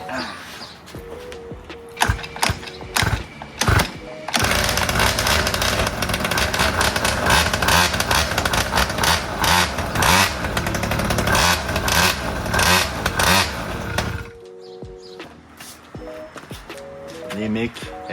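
Small pocket bike, abandoned for years, with a freshly cleaned carburetor: after a few short attempts the engine fires up and runs loud, rattly and buzzing for about ten seconds, then cuts out to a rough idle, with people talking nearby.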